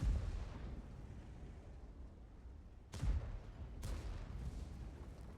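Tank cannon fire in World of Tanks, with a T-10 and an M103 in battle: two heavy booming shots a second apart over a low rumbling engine and battlefield ambience.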